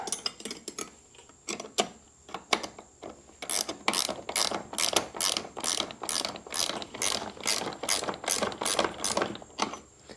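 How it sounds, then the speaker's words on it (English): A ratchet wrench tightens a 13 mm part on a Seadoo 4tec engine, a close, rapid series of crisp clicking strokes, sparse at first and then settling into a fast, even rhythm. "I'll snug that down. I gotta go get a wrench."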